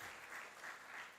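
An audience at an engineers' day conclave breaks into continuous applause, an even wash of clapping heard throughout.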